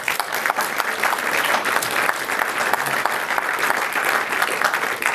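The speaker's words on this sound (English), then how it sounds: "I think you need to give yourselves a big round of applause" Warm, sustained applause from a conference audience at a community awards session, thick and continuous clapping that stays loud and even throughout.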